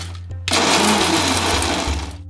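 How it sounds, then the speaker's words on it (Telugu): Mixer grinder grinding roasted sesame seeds and dry fruits, a loud steady motor whir starting abruptly after a brief quiet and running for about two seconds before winding down. "మిక్సీ పట్టుకుందాం."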